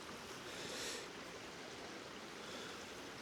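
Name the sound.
river water flowing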